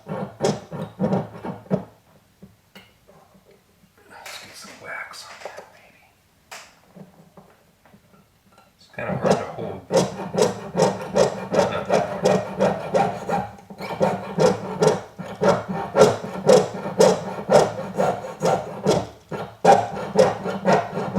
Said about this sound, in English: sawing like I've done many times before already.